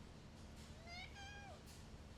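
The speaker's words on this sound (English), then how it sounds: "I got these kitties that want some food right now. They're yelling at me." Hungry house cats meowing for food, a few drawn-out, rising-and-falling meows in quick succession, close and fairly clear over a low background hum.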